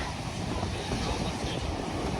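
Big storm waves on the Black Sea at Odesa's Langeron beach make a constant, thick roar of churning surf, blended with strong wind rumbling against the microphone throughout.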